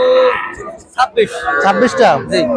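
Cattle at a rural cattle market, a loud close moo drawn out at the start, then more lowing calls with other animals and market noise around.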